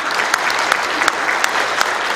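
Audience at a Korean book launch for Icheon mayor Eom Tae-jun's "Good Morning Icheon" giving a steady round of clapping, dense and fairly close, with a few sharper claps standing out and no talking over it.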